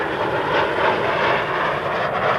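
A fixed-wing aircraft passes at an RAF Coningsby airshow, a loud, steady broadband jet roar that holds at constant strength from start to finish, with no talk.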